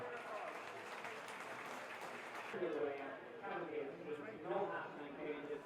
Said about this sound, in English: Let's hear your applause